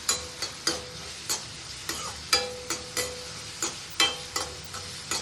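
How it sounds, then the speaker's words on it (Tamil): Onions fry in oil for Pallipalayam chicken, a steady close sizzle broken by a regular series of sharp spatula scrapes and taps against the pan, roughly two per second, with no voices. "அது நல்லா ஆயிலே நல்லா ஃப்ரை ஆகணும்."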